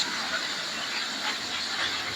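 Snakehead fish rubbed with turmeric and chili fries in hot oil with a steady, loud, broadband sizzle. The crackling hiss runs without pause.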